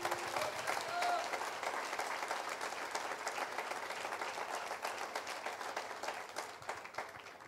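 Church congregation applauding the Lord, a dense, sustained wash of clapping from a crowd that holds steady for the whole stretch and tapers slightly at the end, with some voices mixed in beneath.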